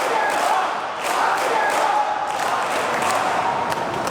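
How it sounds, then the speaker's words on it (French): A large crowd at a political rally roars and cheers continuously, a dense wash of voices and shouts at steady loudness for several seconds. "La foule exulte."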